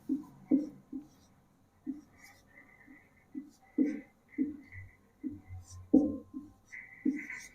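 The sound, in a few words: writing on a board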